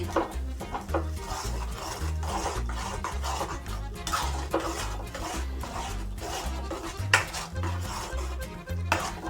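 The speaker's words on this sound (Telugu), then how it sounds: "ఇప్పుడు ఇది ఆయిల్లో కొంచెం ఫ్రై కావాలి" Chopped tomato fries in oil in a pan for a lady's finger masala curry, heard mostly as repeated metal spoon scraping and clinking against the pan in a busy, uneven rhythm under a low background hum, with no speech.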